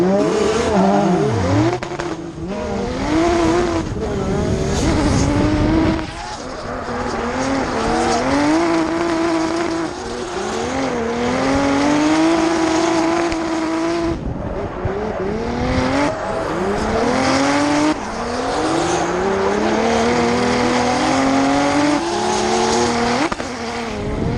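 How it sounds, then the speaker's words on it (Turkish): A drift car at a race in Kayseri kicks into a drift using the manji technique, its engine revving hard and rising and falling in pitch over a long run, with tire squeal and crowd-like roar in the background. "Gelin hep beraber geçen yıl Kayseri'deki yarışta manji yaparak nasıl drifte başlamışım."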